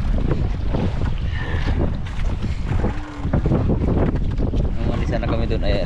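Engine of a fishing boat running at sea, a steady low rumble mixed with strong wind noise and water, with people talking over it.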